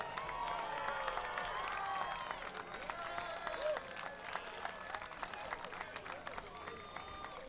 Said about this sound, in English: Now you can stand up and cheer for all of them.